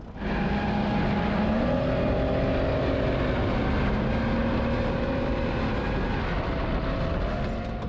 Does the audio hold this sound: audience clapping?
no